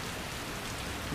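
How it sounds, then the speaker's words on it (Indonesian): Steady rain falls in Pacitan, a soft, even hiss of drops on surfaces that holds through the whole moment, moderately quiet and with no voices. "Cuma kalau hujan kayak gini ngapain ya?"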